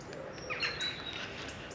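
Birds singing in woodland at sunrise, a few faint high chirps and short whistled calls over a steady soft background hiss, distant and quiet, no voices.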